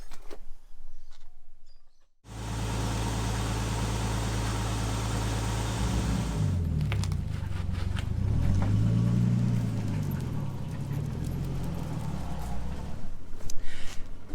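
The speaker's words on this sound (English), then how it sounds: "We're going for the first proper drive in the Skyline." A Nissan Skyline R32 set up as a wedding car, HICAS removed, idles then pulls away on its first street drive, engine note rising and falling with gear changes, steady and close.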